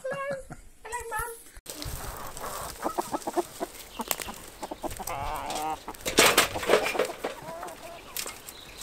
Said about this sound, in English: The chickens turn it all over.